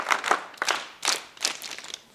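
Scout and guide students at a college give welcome claps in several short, sharp bursts, fairly close and moderately loud, separated by brief pauses.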